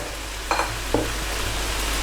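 Boiled chow mein noodles tossed into a hot pan of vegetables bring a steady close sizzle, with two brief clattering stirs over the constant frying hiss.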